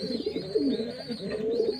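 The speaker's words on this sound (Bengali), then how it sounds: "এটা হচ্ছে ফুলশিরা লাইনের পায়রা বাচ্চা।" A Phulshira-line pigeon chick coos softly in low, continuous murmuring tones, close by, with a faint steady hiss in the background.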